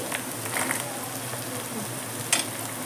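Oil sizzles softly in a pan as chopped cashews fry in a tempering for ragi-jowar upma, with a steady crackle, a few light stirring scrapes and one brief sharper clatter.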